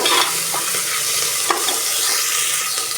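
Tomatoes sauté over a high flame in a pressure cooker, a loud, close, steady sizzle with a few sharp scraping stirs of the spoon and no voices.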